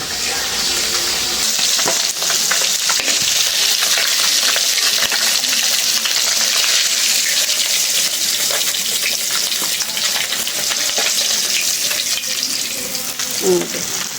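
Fresh fish caught from a small home pond frying lightly in a pan, giving a steady, close, bright sizzle that runs unbroken throughout with a few faint clinks near the end.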